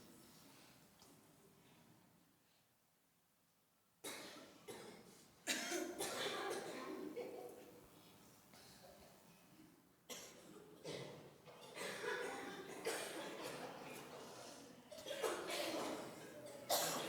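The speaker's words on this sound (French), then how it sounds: "Many, you feel like a cough that is coming up." A crowd gathered for a church renewal service coughs repeatedly in loud, overlapping bursts, with some throat clearing and faint chuckles mixed in and quieter moments between the waves of coughing.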